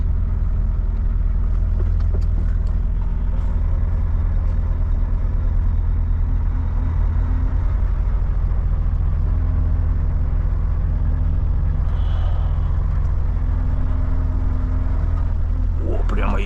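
A KamAZ truck's engine revs while standing, with a loud, steady low rumble and idle throughout, swelling briefly near the end.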